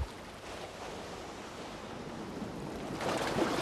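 Ocean surf washes steadily against the seawall on the Guyana coast, a continuous broad rush that swells slightly near the end, with some wind noise.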